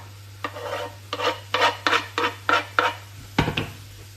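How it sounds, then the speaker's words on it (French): A spatula scrapes and stirs Sichuan-style shrimp and shallots in a hot pan, about eight rhythmic rasping strokes close up over a faint steady hum, ending with a sharper clatter. "On mélange jusqu'à ce que les échalotes soient un peu cuites"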